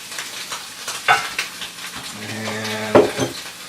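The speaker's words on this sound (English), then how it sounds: "so now our Spam is frying up nicely. It's nice and crispy." Spam sizzles in a pan, a low steady frying crackle with scraping stirs, and a brief low moan-like tone in the second half, moderately close.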